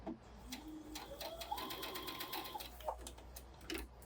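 A home sewing machine stitching the end of a fabric edge at a short 2.0 stitch length while the edge is curved, a quick, even mechanical whir with rapid needle ticks, close by and moderately quiet.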